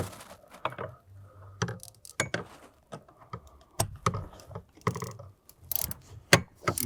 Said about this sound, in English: We'll set our 21 in with our ratchet.